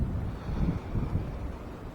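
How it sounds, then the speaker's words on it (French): Wind gusts buffet the microphone outdoors during a winter fishing session, a low, uneven rumbling roar that swells and fades over two seconds with no talking. "Il y a beaucoup de jus, là, il y a du vent."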